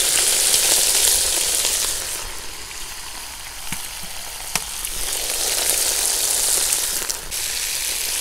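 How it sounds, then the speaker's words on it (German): Meat searing in about 50 to 60 millilitres of oil in an Uzbek kazan for sharkoe stew, a loud close sizzle that dips briefly and swells again, with a few clicks from stirring. "Und das Ganze braten wir, bis es eine schöne goldene Farbe gibt."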